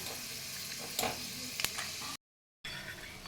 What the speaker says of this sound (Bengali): বাদাম দিয়ে দিলাম, চীনা বাদাম। এগুলোকে আমি ভেজে আগে তুলে নেব